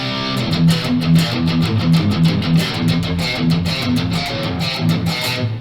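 A dense, muffled electric guitar riff through an amp with a high cut chugs steadily, its tone dark and rounded with the bright edge rolled off.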